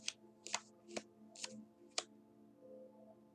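Playing cards being cut and laid out for a tarot-style reading, heard as five soft, crisp flicks and slaps spaced about half a second apart in a quiet room, fading to faint background hum.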